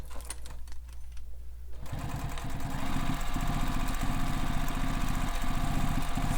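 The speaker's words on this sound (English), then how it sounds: "I'm just back stitching a bunch of times" Sewing machine back stitching repeatedly on a sling pack starts after a quieter moment and then hums loudly and steadily close by, with a rapid needle rhythm and brief pauses between stitching runs.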